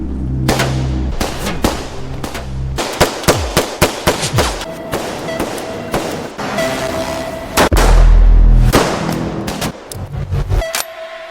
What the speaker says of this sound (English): Darby immediately ordered his men to attack Will until a shootout occurred